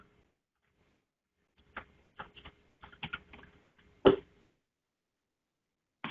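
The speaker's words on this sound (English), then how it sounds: "they can type in here whatever the change that needs to be done" A computer keyboard is typed on in short bursts of close, crisp key clicks with uneven gaps, ending in one louder heavy keystroke, in an otherwise quiet room.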